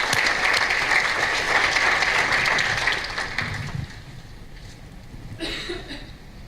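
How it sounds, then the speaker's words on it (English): Audience at the ADED 2017 opening keynote claps for themselves, a loud burst of many hands that thins out after about three seconds into scattered, fading claps. "give yourselves a round of applause as well for doing what you do every day"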